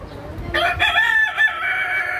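A rooster in a cage of hill chickens, likely Black Australorps, gives a single close, loud crow lasting almost two seconds after a brief quiet rustle, in hot-weather conditions.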